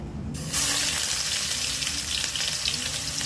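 Onion paste with spices hits hot oil in a pan for a rajma curry, bursting into a loud, continuous hissing sizzle that swells after a brief quieter moment and keeps crackling steadily throughout.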